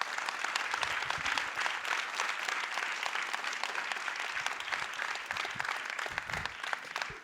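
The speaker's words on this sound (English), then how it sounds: "Give them a big, big, big applause." An audience applauds a panel at a women in science and entrepreneurship summit, with a dense, sustained wash of clapping and occasional louder individual claps.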